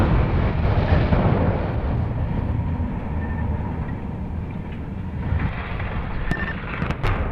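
An explosive blast from the first of several stacks fired in a timed countdown sequence: a deep, continuous roar and rumble lasts throughout, with no voices over it.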